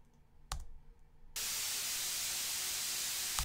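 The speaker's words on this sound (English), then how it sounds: "here's that white noise piece I'm talking about" A white noise synth layer made from an Ableton Operator patch, a steady broadband hiss that switches on abruptly after a couple of clicks and holds flat and continuous to the end.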